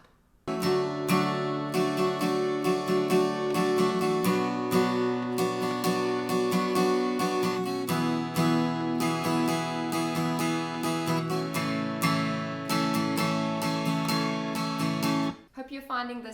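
An acoustic guitar strums a steady down-up pattern for a song in a lesson setting, with full, continuous chords. A brief stop comes near the end.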